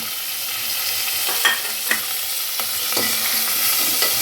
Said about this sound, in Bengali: এরপর আমি দেব টমেটো কুচিগুলো